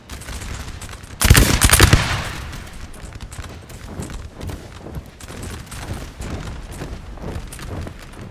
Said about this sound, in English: Put some volleys into those Frenchies over there.